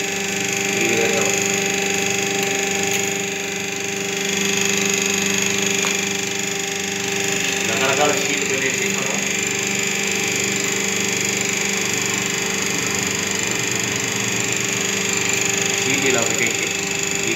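A single-user double-die square paper plate making machine runs with a steady mechanical hum and tonal whine, with a few brief gear-driven pressing sounds, while someone talks over it throughout.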